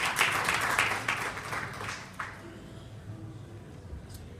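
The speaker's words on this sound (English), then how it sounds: "Another round of applause." Audience at an evening book launch gives a round of applause, loud clapping for the first two seconds that quickly dies away into quiet room sound.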